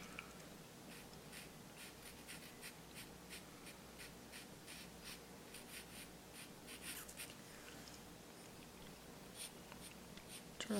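A black charcoal pencil scratches over paper while shading fur on a wolf drawing, faint and close, in quick repeated strokes with short pauses.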